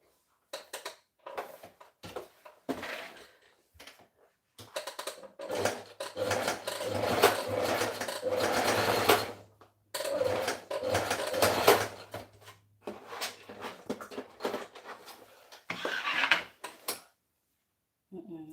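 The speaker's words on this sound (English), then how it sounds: "Let me just quickly go ahead and back stitch this other part here" A sewing machine back stitching a seam on a pair of pants, its motor hum running in short bursts and one longer steady run, with intermittent clicks and handling noises between stitches.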